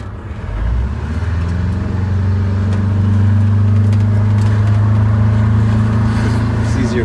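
A GM 4106 bus engine drones steadily during a test drive in Gilbert, Arizona, a loud low-pitched hum that builds in the first second and then holds even, with people talking over it.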